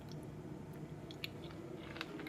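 Quiet close-up chewing of food during a taste test, soft wet bites and a couple of small crunchy clicks over a faint background hum, no talking.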